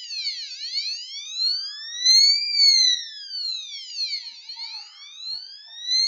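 A passive buzzer driven by a microcontroller sweeps its pitch up and down in repeated siren-like glides, loud, close and electronic, with overlapping rising and falling tones and no voices.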